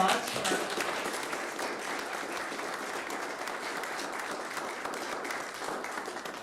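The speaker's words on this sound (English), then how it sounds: "If everybody join me in one last round of applause" Sustained applause from an audience at a school board meeting, a dense, steady wash of clapping that holds at a constant level throughout.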